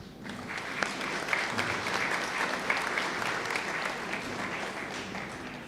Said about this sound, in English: Let us give a very big round of applause first for Jesus and then once again for our friends from Antananarivo